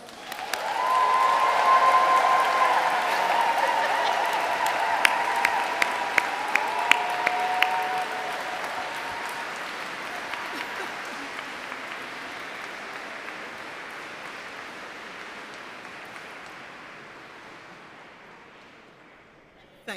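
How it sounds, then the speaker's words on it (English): A large indoor audience at a university graduation ceremony in Canterbury Cathedral applauds loudly and steadily, with scattered whoops, the clapping swelling early and then slowly fading away. "Give them a raucous round of applause."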